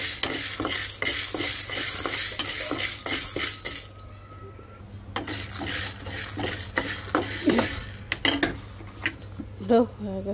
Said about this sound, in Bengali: ডাল ভাজলে আলাদা একটা সুন্দর একটা গান হয় না?